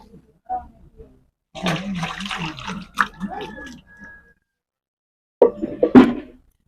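Cooked mutton curry poured out of a pressure cooker: separate bursts of thick liquid glugging and splashing, with quiet gaps and a louder pour near the end.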